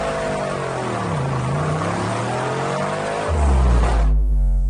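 The Batmobile drives hard during suspension testing, a loud continuous engine roar that climbs and dips in pitch, then ends in a deep low rumble near the finish.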